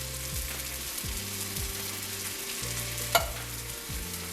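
Diced tomatoes and red wine vinegar stirred into a hot, sizzling pan for eggplant caponata, a steady fry with repeated scraping strokes of the spoon across the bottom and one sharper clink near the end.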